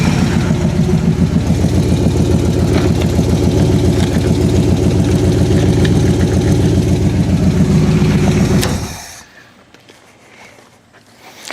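A Chevy V8 in a wild casket-style custom car runs loud and close with a steady, rough, throbbing idle that fills most of the stretch before it abruptly shuts off, leaving near quiet.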